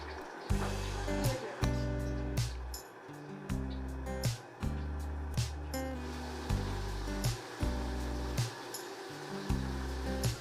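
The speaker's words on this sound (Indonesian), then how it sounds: "Lalu mulai mixer dengan kecepatan rendah aja sampai benar-benar semuanya tercampur rata" An electric hand mixer runs at low speed through cookie dough with sweetened condensed milk, its motor whine surging and dipping in a steady roughly one-second rhythm as the beaters work, close up.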